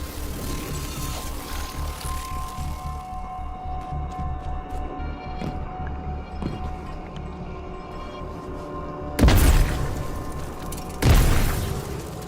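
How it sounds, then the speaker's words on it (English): A supercharged cannon fires in the video game Destiny 2, two heavy booming blasts a couple of seconds apart over a steady droning, rumbling game soundscape. "Guardian, it's supercharging the cannon."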